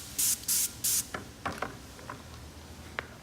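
Airless paint sprayer loaded with clean water fires three short, loud hissing bursts close by, followed by quieter clicks and mechanical handling sounds.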